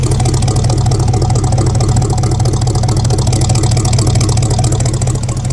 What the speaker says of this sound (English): Somewhat warmed up and idling now.